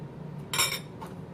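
A metal spoon clinks sharply against a jar or dish while scooping ginger for a soy salmon marinade: one bright clink, then a fainter tap about half a second later, with a quiet room hum behind.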